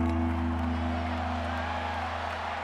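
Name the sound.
crowd noise rising in the video game Madden NFL 25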